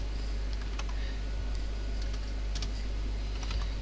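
Typing on a computer keyboard, with irregular light key clicks tapping over a steady low hum, close and fairly quiet.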